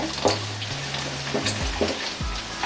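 Urad dal frying in oil over a low flame for mango rice, a soft steady sizzle with light crackles and stirring taps, close by, joined by low tonal hums that rise and fall underneath.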